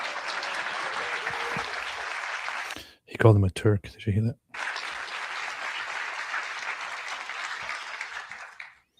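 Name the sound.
audience applause for Frank Turek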